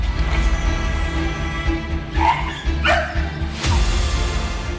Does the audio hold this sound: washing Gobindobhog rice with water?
no